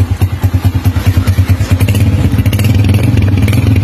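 A Honda TMX 125 Alpha motorcycle fitted with a Yutaka contact point exhaust pipe, revved loud and close: a pulsing, throbbing idle rhythm rises into a steady, sustained higher rev with no talking.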